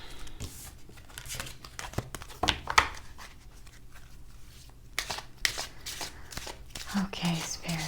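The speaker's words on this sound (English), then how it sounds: "Sorry, I'm just grabbing my cards here." Tarot cards handled and shuffled during a reading, close papery riffles, slides and soft taps coming in irregular bursts, with brief quiet talk near the end.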